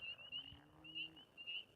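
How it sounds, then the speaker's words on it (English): Frogs croaking in a backwoods spot beside water, a steady rasping chorus with repeated high trilling calls, faint and continuous with no voices. "these frogs haven't stopped their thing since I've got here"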